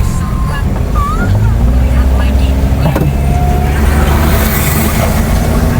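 Heavy, steady road roar fills a car cabin on a winding highway in the rain as a truck passes alongside, loud and continuous, with occasional voices inside the car.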